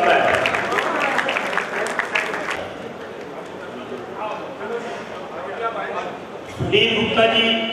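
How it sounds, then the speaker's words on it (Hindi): Light applause ripples through a hall during a ceremony, dense at first and then thinning out. Voices murmur underneath, and a brief clatter comes near the end. "आपसे निवेदन है कि हल्की हल्की तालियों से इस हाल को गुजार के रखें।"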